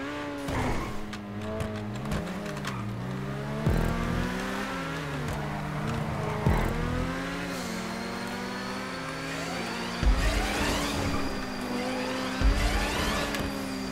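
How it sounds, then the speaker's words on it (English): Racing car engine in GTA 5 Online roars and revs continuously, pitch rising and falling through gear shifts as it accelerates, loud and close with no talk over it. "It's really amazing how overpowered this car is."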